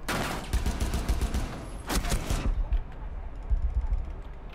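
Pistols trade rapid fire in a shooting video game duel, shots cracking out in quick bursts over about two seconds and then thinning to a few scattered shots.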